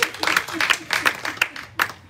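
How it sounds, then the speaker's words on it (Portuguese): An audience at a spiritist talk applauds in uneven bursts, with scattered claps and a thin, patchy sound that suggests a modest crowd. "Uma salva de palmas para ela,"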